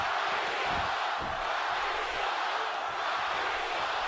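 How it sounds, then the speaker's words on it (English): A video game arena crowd in WWE 2K18 roars and chants in a dense, continuous wash of voices during a wrestling match, loud and unbroken with no commentary over it. "This crowd is, man, they're chanting Rocky sucks."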